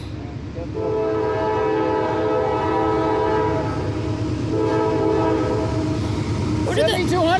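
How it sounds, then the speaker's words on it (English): An empty coal train hauled by a rebuilt AC44 locomotive passes close by near Rockville, climbing a hill with a steady loud rumble and rail clatter while its horn sounds long, layered blasts twice; brief voices come near the end. "Yeah, it's an empty coal train."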